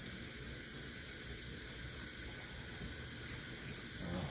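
A kitchen tap runs steadily as blood is rinsed off a piece of frozen meat fresh from the freezer, a close, continuous broadband hiss of water that holds evenly throughout.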